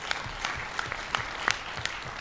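Scattered, fairly light clapping from a small conference audience, individual claps audible against a low murmur.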